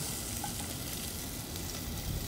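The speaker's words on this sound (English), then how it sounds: "As the bacon starts to cook, you'll notice it start to sizzle." Bacon sizzles and crackles steadily in a hot pan, a close, continuous hiss with small pops and no talking.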